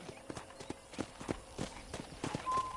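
Horse hooves clip-clopping in the Western video game Red Dead Redemption, a quick, uneven run of clear hoof strikes on hard ground, moderately close, with a faint tone near the end.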